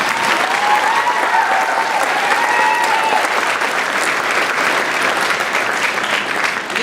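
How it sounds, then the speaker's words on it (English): Audience at a school Blue Ribbon ceremony breaks into loud, sustained applause, dense steady clapping that fills the whole stretch without a break, with a few faint cheers riding on top. "Round of applause, please."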